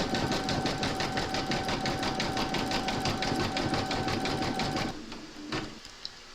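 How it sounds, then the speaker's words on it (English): An embroidery machine zigzag stitches a koala appliqué, a loud, fast, even mechanical rattle of needle strokes running for about five seconds, then stopping to quieter handling noise. "we're going to stitch round number 4, and that's going to zigzag and join the body to the head"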